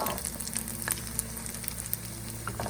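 Steady sizzling and crackling of salt fish fritters frying in hot oil, with small pops scattered throughout, close and continuous.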